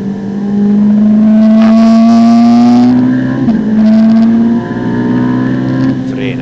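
Ferrari 458 Italia at full throttle on the Monza circuit, its engine note climbing steadily to a loud, sharp howl, dipping at a gear change, then pulling up again, with a driver's voice speaking briefly over it.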